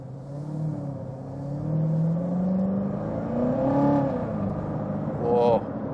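A 2019 Corvette Z06 engine rises in a smooth rev as the car accelerates, a steady close rumble climbing and falling in pitch over several seconds with a brief sharper blip near the end.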